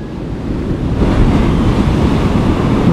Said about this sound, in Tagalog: Lampas tao yung alon.